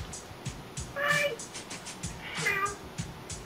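A pet cat meows twice at close range, about a second and a half apart, in a home where a bunny is also kept. Background noise and faint talk are present.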